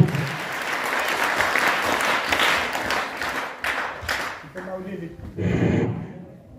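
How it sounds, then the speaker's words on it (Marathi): An audience claps in loud, sustained applause at a martial arts demonstration by schoolchildren, with voices mixed in; the applause fades and breaks into scattered claps toward the end. "टाळ्याच्या गजरात स्वागत करा"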